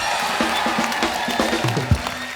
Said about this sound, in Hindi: एक बार हमारे प्यारे अन्ना जी के लिए जोरदार तालियां।